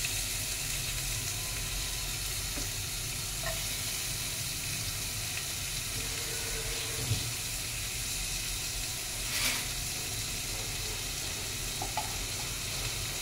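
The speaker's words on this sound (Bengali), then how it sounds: "তেলটা গরম হলে ওর মধ্যে দিয়ে দিচ্ছি পেঁয়াজ কুচি" Chopped onion fries in hot mustard oil, a steady, close, unbroken sizzle and hiss with no one talking.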